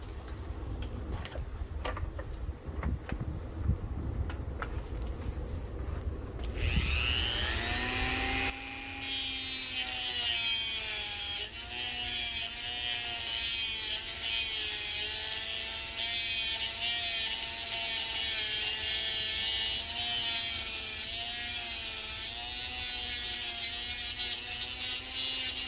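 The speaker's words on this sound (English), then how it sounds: "we have hard metal and a cutting wheel." A rotary tool with a cutting wheel grinds into the hard metal of a Leatherman Wave multitool, shifting from scraping to a loud, sustained high-pitched whine with wavering pitch as the wheel bites in.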